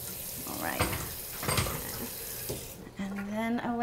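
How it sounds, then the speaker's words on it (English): Water runs from a tap into a pot of cooked vegetables being made into baby food, a hissing splash under faint kitchen clatter, followed by a rising whirring hum near the end. "I'm gonna add just a little bit of water"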